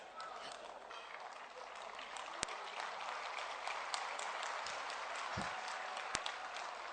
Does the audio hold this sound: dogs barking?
no